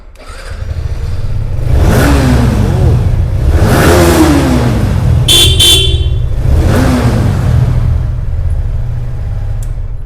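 A new white E20 motorcycle at a Kolkata showroom revs loudly several times in close succession, each rise and fall of the engine clear, with a brief horn toot partway through.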